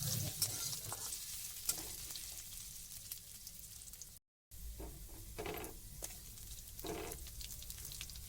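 Crushed ginger for bread cutlets frying in a pan, a faint steady sizzle with occasional stirring clinks and scrapes and a brief dropout midway, no voices.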